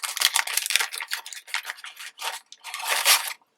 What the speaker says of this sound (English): So this is just done with decorative scissors.